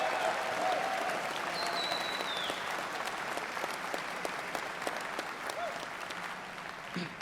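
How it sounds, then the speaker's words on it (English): Steady applause from a conference audience fills the room, a dense wash of clapping that holds loud throughout, with a faint whistle and scattered calls rising over it. "Can we give a round of applause for the America First interns?"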